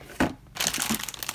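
DCWV Perry and Peach scrapbook paper scraps being handled, a short sharp crinkle followed by a softer rustling shuffle of paper, close and brief.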